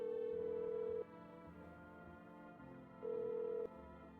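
Phone keypad dialing a six-digit number in the game No, I'm Not a Human, with two loud sustained tones near the start and end over a low hum and faint background tones.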